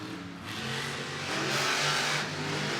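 The Bakugan Dragonoid monster truck's engine revs in a rising, swelling roar at Monster Jam in Camping World Stadium, Orlando, heard at a distance with stadium ambience around it.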